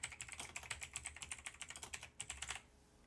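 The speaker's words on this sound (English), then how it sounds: "Sorry for the mechanical keyboard" Rapid clicky keystrokes on a mechanical keyboard patter in a fast, uneven rhythm for a few seconds before stopping, faint and close with no voices.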